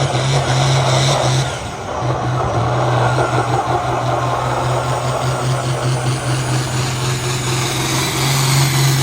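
A tractor at a truck and tractor pull in Potosi, Wisconsin, roars loud and continuous with a steady low drone throughout, a brief dip near the start, and no talking over it.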